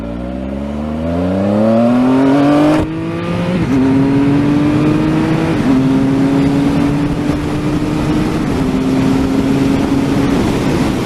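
Triumph Speed Triple RS motorcycle accelerating hard through the gears, the engine note climbing loud and near with clear shift breaks, rider wind noise underneath and no speech.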